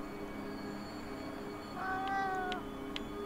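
A cat in the video game REKA meows once, a short rising-falling call over a steady low background hum, near and moderately loud.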